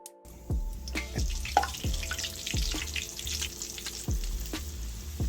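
Coated chicken sizzling and crackling in hot oil, a steady bubbling hiss with sharp pops spread throughout, close by and fairly loud.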